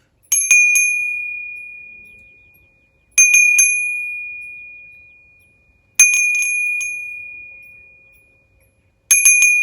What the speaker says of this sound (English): This is a temple bell.